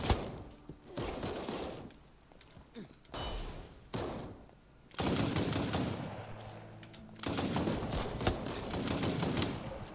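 Rapid gunfire from Claire's handgun in the multiplayer video game Resident Evil Re:Verse, bursts of close shots in quick volleys separated by short pauses, with game noise around them.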